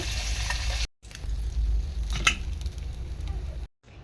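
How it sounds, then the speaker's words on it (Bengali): Pieces of tilapia fish fry in hot oil in a pan, a soft continuous sizzle broken by two short gaps and a few faint clatters, with no voices over it. "এরকম আস্তে আস্তে সবগুলো মাছ আমি ভেজে নেব।"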